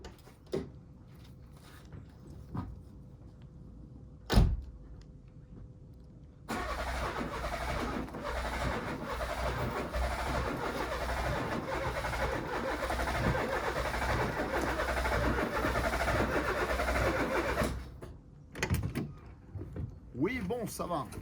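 An old Peugeot 205 Roland Garros is cranked with starting fluid, then its engine catches with a loud burst and runs rough and steady for about eleven seconds before cutting out, with people talking nearby.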